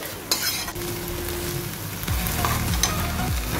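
Masala paste being stirred and fried for an egg curry, a steady close sizzle with spoon scrapes against the pan running throughout, growing slightly louder partway through.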